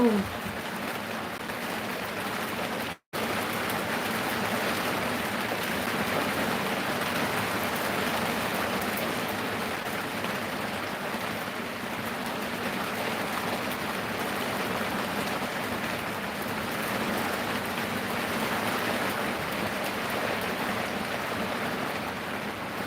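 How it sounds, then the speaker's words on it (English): Heavy rain pours down in a steady, loud broadband hiss that stays constant throughout, with one brief dropout near the start and no clear talk. "I can see it's raining so loud."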